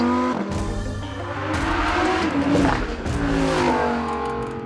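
Sports car engine in sport mode accelerating hard, a loud rising rev with crackling overtones that swells and holds close by, likely a Ferrari, Lamborghini or Aston Martin V8, V10 or V12.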